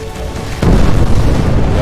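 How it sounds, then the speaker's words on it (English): Deep, booming nuclear missile explosion in the spaceship simulation game Between the Stars, a sudden loud low-frequency blast that hits partway through and keeps rumbling heavily to the end, with no talking. "Really nice explosions as well"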